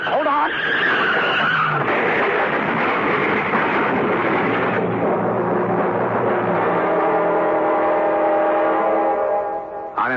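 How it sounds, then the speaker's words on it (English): Tires squeal in a long, loud skid on an icy road as a car slides out of control, a radio drama sound effect from the 1977 CBS Radio Mystery Theater, with screeching tones rising and sustaining for about ten seconds. "On an icy road in midsummer, two cars slide into each other"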